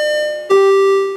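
A two-tone electronic ding-dong chime like a train door announcement rings clearly and alone, a high bright tone followed by a lower sustained one.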